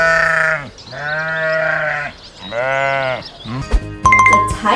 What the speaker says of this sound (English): What sound does the sheep make?